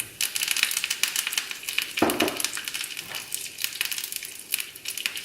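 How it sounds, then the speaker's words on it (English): Curry leaves hit hot oil with frying dried chilies and splutter hard: dense, close crackling and popping throughout, with a sharp burst early on, and no talking. "as the dried chilies are frying, I'm going to add in our curry leaves. Okay, this will start spluttering really badly."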